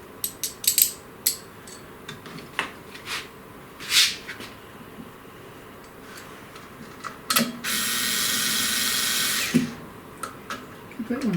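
Two screws driven into the groove of a CNC router mechanical kit for a SainSMART Genmitsu PROVerXL 6050 Plus, with scattered clicks and clatter of parts, then a sustained two-second whir of a power driver, close by.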